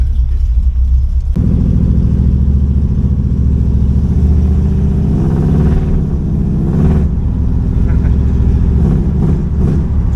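A Pontiac Firebird Trans Am with a McFly Concept exhaust starts with a sudden catch, then settles into a loud, steady, deep idle rumble with slight throttle swells.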